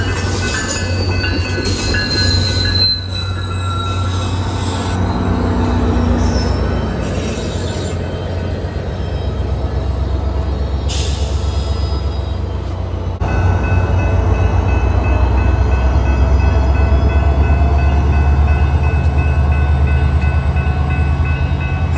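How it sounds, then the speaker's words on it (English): A southbound SunRail commuter train passes close by with the locomotive pushing from the rear, its wheels squealing and the cars rumbling loudly and continuously for over twenty seconds. "here we have the first train of the day is a southbound commuter train"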